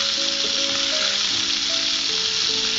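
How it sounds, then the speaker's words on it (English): Galouti kebabs frying in hot oil in a pan, a steady close sizzle with bright crackle running without pause and no voices. "Fry each side for 2 to 3 minutes."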